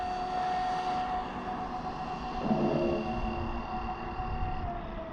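A Traxxas Maxx V2 RC car running on 3S with 27/46 gearing holds full throttle, its electric motor producing a steady, loud, sustained whine that fades slightly in tone as it speeds away.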